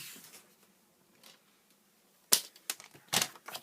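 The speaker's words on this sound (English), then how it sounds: "So I'll just cut a new bit off." A fresh piece of card for a birthday card is cut after a mostly quiet lead-in. It comes as a close series of crisp, sharp snaps and rasps in the final second and a half.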